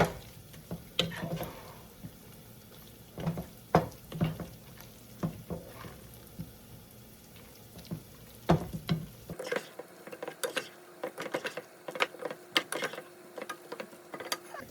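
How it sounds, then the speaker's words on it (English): Green beans being stirred into a casserole base, a series of close, irregular wet clicks and scrapes of a spoon against the dish, fairly quiet, with no talking over it. "We're going to add in our green beans to our base. And stir this together"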